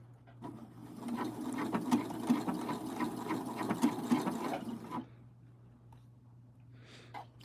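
A sewing machine stitches a hem, running in a close, steady mechanical chatter for about five seconds before stopping. A low hum and a few faint clicks follow, and no one speaks.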